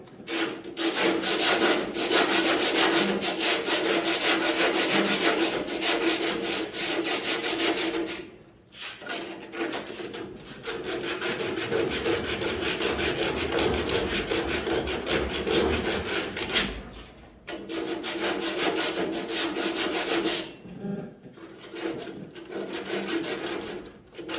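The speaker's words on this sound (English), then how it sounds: "I'm just going to get in there with some 80 grit, clean up the metal so it gets a nice weld" Steel body metal on a 1958 Impala is worked with 80 grit abrasive, a loud continuous rasping scrub in long passes broken by two brief pauses, nearby and alone.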